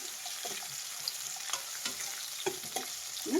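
Tomatoes and green chillies fry in a pan with a soft, steady sizzle, broken by occasional quiet clicks and scrapes of stirring, fairly faint and without talk.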